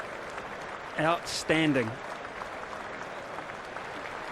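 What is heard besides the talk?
cricket crowd applauding South Africa team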